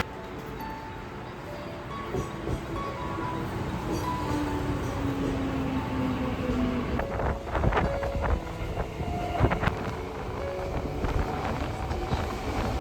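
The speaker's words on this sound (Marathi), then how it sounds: "बघा इकडे ना आता ट्रेन लागलं आहे" A train rumbles past amid steady wind buffeting the microphone in Mumbai, with clattering bursts near the end and a long broadband roar throughout.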